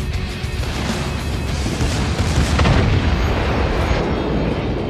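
Secondary battery guns on a warship in a naval combat game: a loud, continuous rumble of overlapping booms and blasts that swells near the middle, with no voices.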